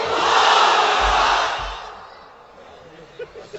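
A large crowd at an Islamic sermon gathering roars a takbir together, a loud, sustained mass shout that swells and then fades, leaving scattered distant noise.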